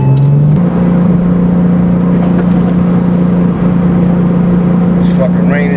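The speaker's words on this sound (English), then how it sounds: "I know you can hear that turbo engine roaring" A Porsche 911 Turbo engine drones steadily and loudly from inside the car while driving in the rain, holding a constant low hum throughout.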